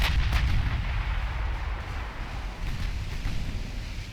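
Naval artillery fire in the warship game Ultimate Admiral Dreadnoughts, a steady rumbling barrage of low booms with a few sharper cracks early on, continuous and heavy with no voices.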